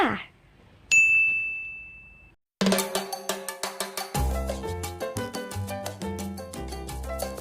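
A notification bell sound effect gives a single clear, ringing ding that sustains and fades, followed after a brief silence by bright, rhythmic plucked music with a steady beat.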